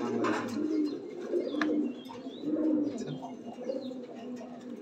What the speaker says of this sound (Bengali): এটা বাংলাদেশের পায়রা।